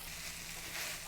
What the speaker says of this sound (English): we're gonna just keep cooking until this cabbage turns real soft